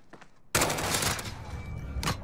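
Grau 5.56 assault rifle fire in the Modern Warfare video game: a loud, close, sustained burst that starts abruptly, eases slightly, then flares into a second short burst near the end, with no talking.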